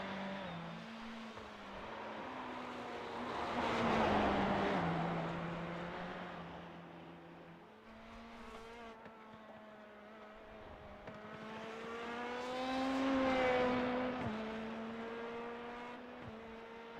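A race car in the LMP2/GTE classes lapping the Charlotte Roval in the sim racing game iRacing, its engine note rising and falling through gear changes, swelling louder twice as it passes at close range.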